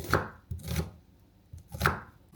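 Knife chopping onion on a board in a home kitchen, three separate bursts of cutting strokes, close and moderately loud, with no talking.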